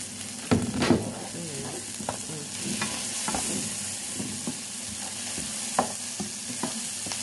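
Tomatoes stir-fried with seafood and vegetables for a pasta sauce in a pan, a steady soft sizzle broken by scraping stirs and occasional clanks of a utensil, close by.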